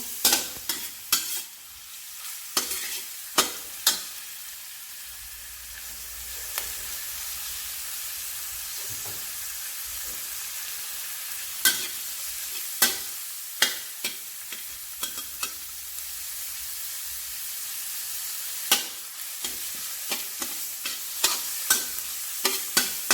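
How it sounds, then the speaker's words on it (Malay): Garlic and shallots sautéing in a wok, with a steady close sizzle broken by sharp clanks and scrapes of a spatula stirring, all without speech. "bawang putih, tumis sehingga dia keluar bau."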